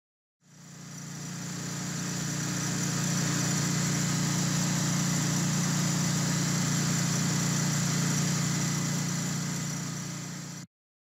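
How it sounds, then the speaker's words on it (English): A Kohler EFI engine starts and runs steadily during a fuel pump module test, a loud, even mechanical drone holding constant for about ten seconds before cutting off, with no talking. "start and run the engine"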